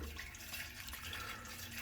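Water streams steadily into a DWV drain pipe being filled for a leak test, a faint, continuous hissing rush with no pauses.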